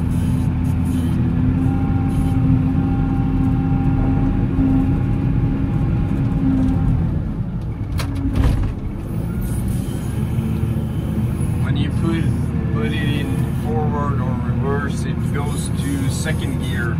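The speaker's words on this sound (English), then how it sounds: "is me forcing the gearbox to first gear" A snowplow machine's engine drones loud and steady at close range while its gearbox is forced into first gear, the pitch dipping around the midpoint with a clunk before the rumble resumes, someone talking over it.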